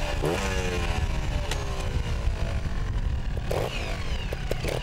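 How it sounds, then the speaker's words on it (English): A trials motorcycle engine runs close by in a continuous rough drone, with rising revs and brief surges as the rider pulls away, loud and alone without talk. "You start your bike."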